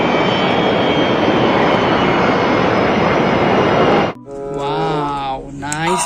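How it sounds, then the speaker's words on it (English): An airplane engine roars loud and steady for about four seconds, then cuts off abruptly and a voice follows. "Nice plane."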